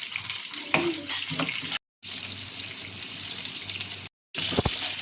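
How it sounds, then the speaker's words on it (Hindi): Fish frying in hot oil in a pan, a steady close hiss and sizzle with occasional spits and pops, broken by two brief silent gaps. "अब हम इसकी साइड को चेंज करके फिर 2 से 3 मिनट फ्राई करेंगे।"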